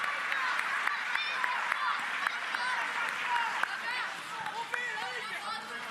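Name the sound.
audience applause for Rio de Janeiro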